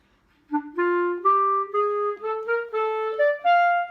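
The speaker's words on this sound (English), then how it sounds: "You'll want your eighth notes to be short and staccato and crisp," A single woodwind plays a short run of rising notes, each detached and crisp with brief gaps between them, clear and close with no talking.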